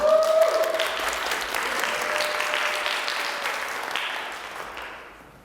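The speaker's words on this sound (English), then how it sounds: "Let's give her a round of applause." A crowd at a university pageant applauds a contestant, a dense wash of clapping that starts strong, holds steady, then fades out over several seconds, with a brief tonal sound near the start.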